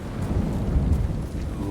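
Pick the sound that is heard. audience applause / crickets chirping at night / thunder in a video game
thunder in a video game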